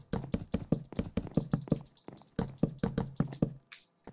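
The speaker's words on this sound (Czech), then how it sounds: "Jestli teďka slyšíte, jak brutálně klikám" Rapid, loud clicking of computer mouse and keyboard controls while playing Minecraft, close-up taps in quick irregular bursts with a brief pause midway, no speech.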